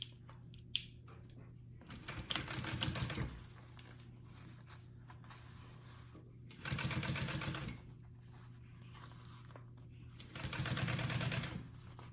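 Sewing machine top stitching a fabric bowler bag, running in three separate bursts of roughly a second each with quiet gaps between, close and moderately loud over a low steady hum.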